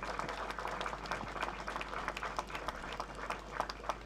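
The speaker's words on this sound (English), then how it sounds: "Can we have a big round of applause, a bigger round of applause?" An audience at a poetry performance applauds: dense, continuous clapping from a crowd, steady and somewhat distant, with no voices over it.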